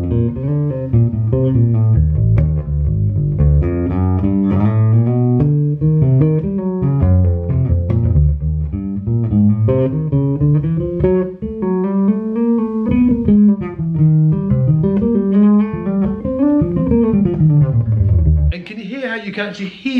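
Walking bass line on bass guitar spelling out chords with chord-tone arpeggios, a steady stream of plucked notes moving up and down, loud and close, ending with a brief noisy burst.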